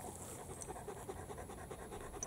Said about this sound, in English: two beautiful puppies